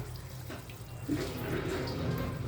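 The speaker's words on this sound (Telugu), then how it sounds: "ఇప్పుడు వాటర్ పోసుకోవాలి" Water pours steadily into a pot of simmering chicken curry, a continuous close splashing and gurgling with a small rise in level partway through.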